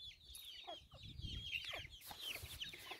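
Hens clucking on a farm near calves, soft close clucks and short calls over a faint low rumble of background noise.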